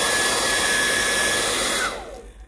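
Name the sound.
heat blower heating Motorola phone battery back cover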